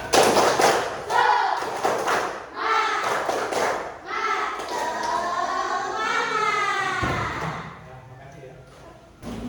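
Children in a classroom clap in a rhythmic group pattern for an ice-breaking game, sharp bursts of claps alternating with a teacher's voice and children chanting along.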